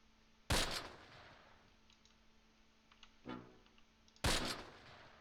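Gunfire from troops in the video game Close Combat: three separate bursts, the first and last loud and sharp with ringing tails, a quieter burst between them, over a low steady hum.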